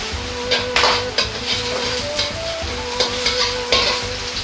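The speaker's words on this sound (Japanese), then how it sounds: "鍋に大さじ1ほどの油を入れ、生姜、ニンニクを香りが出るように炒めます。" Ginger and garlic stir-frying in about a tablespoon of oil in a wok for Chinese twice-cooked pork, a steady loud sizzle broken by repeated scraping and clanking of a utensil against the pan, with no talking.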